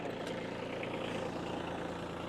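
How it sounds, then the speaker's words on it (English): A tractor engine runs steadily at close range, a continuous low idling rumble with a broadband mechanical drone that holds without change through the short stretch and no talk over it. "So my friend today is the tractor,"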